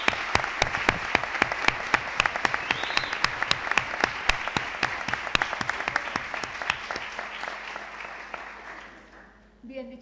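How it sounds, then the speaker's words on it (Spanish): Audience applauding at a public talk on sexual assault and abuse, a dense wash of clapping that fades out near the end, leaving quiet room tone. "Así que por favor pediría un aplauso para él."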